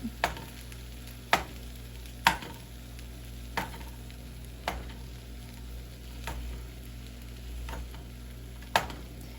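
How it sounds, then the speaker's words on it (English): Meat for fried rice sizzles steadily in a hot pan while a spatula chops through it, sharp knocks landing every second or so over the continuous frying hiss, close and with no voices. "So I'm going to make a spot and put the meat in and just chop them up."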